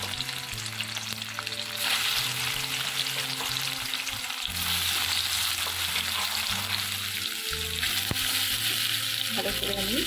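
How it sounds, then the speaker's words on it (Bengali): Paneer cubes frying in hot oil in a wok give a steady, loud sizzle and crackle, with stirring clatter breaking in now and then. No one speaks. "কড়ার মধ্যে আমি পনিরগুলো দিয়ে দিলাম।"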